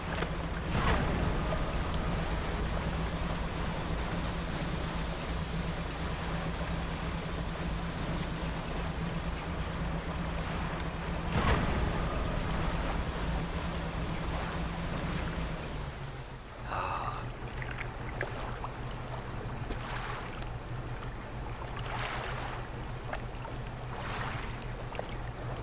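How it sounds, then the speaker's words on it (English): A boat engine in the fishing game Dredge hums steadily and close, a low drone running the whole time under water wash, with a brief swishing burst partway through. "I'm still getting used to this engine. It's super fast."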